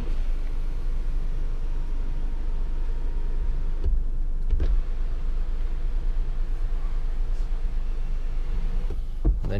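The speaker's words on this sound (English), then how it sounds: "we have the sunroof, which is controlled by these buttons right here." A 2017 Ford Fusion's power sunroof motor hums steadily under cabin noise for several seconds, then stops with a few soft clunks.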